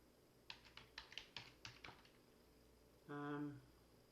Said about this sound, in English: I'm going to type in detailed